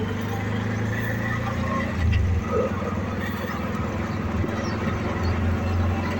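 Riding in a tuk-tuk auto rickshaw in Cambodia brings a constant, rough engine drone with a low buzzing hum and passing road noise, steady and close throughout.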